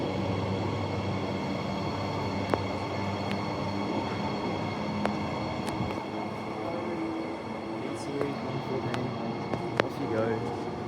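A Perth B-series suburban train on the Armadale line pulls away into a siding at night, a steady low rumble of wheels and traction with faint clicks and squeals, carrying on for the whole stretch while someone talks over it.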